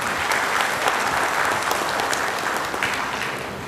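An audience bursts into sustained, dense applause at a public ceremony, loud and steady throughout and tapering slightly at the end.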